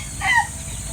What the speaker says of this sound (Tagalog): Marami silang manok dito guys.